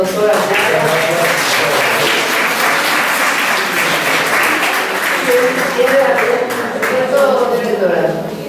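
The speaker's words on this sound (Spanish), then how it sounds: "pido un aplauso para el doctor Araya" An audience at a talk given in Spanish applauds Doctor Araya, with sustained, even clapping from a mid-sized room of listeners and some faint murmuring underneath.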